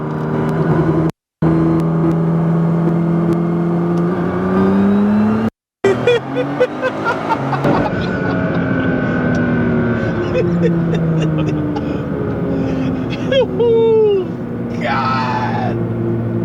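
A 2014 Nissan GTR tuned to 1380 wheel horsepower accelerates from inside the cabin, its engine note rising and swelling as boost builds, loud and continuous, with brief dropouts and people talking over it.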